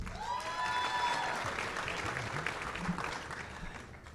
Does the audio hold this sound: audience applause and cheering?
yes